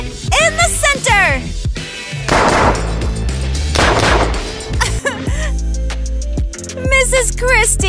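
Several loud gunshot bursts ring out at a police academy shooting range as targets are fired on, mixed with excited shouting voices over the blasts.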